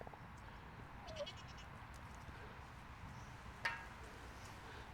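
Goats bleat a few times at a small farm where chickens are also kept, faint and distant over steady outdoor background noise, with one brief call near the start and a sharper one toward the end.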